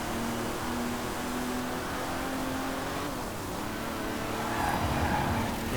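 A car engine hums steadily with tyre noise in the racing game Forza Horizon 4, a sustained mid-level drone that swells slightly toward the end, with no clear shifts or skids standing out.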